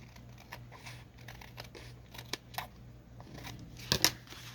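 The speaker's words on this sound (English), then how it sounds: "These scissors are losing their sharpness." Dull scissors trim a paper card for a tag journal, making a few soft, irregular snips and crinkles, with one sharper pair of cuts near the end, close to the microphone.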